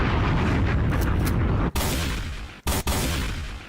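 Dense, rumbling blasts roll continuously, loud and close, with a couple of abrupt cuts near the end, like a barrage of bombs going off.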